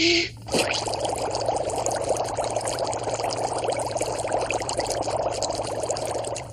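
Steady bubbling gurgle of a deep breath blown through a tube into water, continuous and close, after a brief clatter at the start, with no voices.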